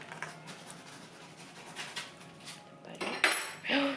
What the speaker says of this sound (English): Now I'm going to get a spoon. So we're going to put some butter in here.